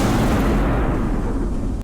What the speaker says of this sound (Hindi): तोपची महमूद खां रेसिडेंसी पर तोप से पहला गोला दाग चुके थे।